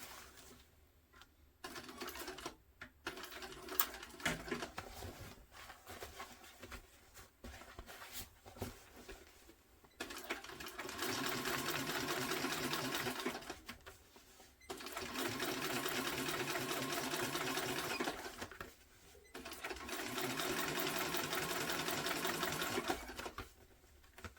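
A sewing machine top stitches a tote bag at a long stitch length, starting with a few short bursts and handling noises, then running in three sustained steady whirring runs separated by brief pauses.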